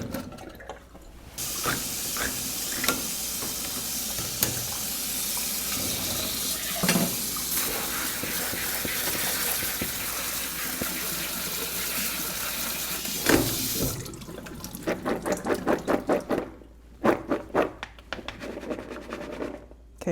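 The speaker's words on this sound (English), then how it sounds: "rinse them in cold water and then shake them out pretty good" Cold tap water running steadily to rinse two drained cans of chickpeas in a kitchen sink, a continuous broadband rush that stops near the end, followed by brief clattering shakes.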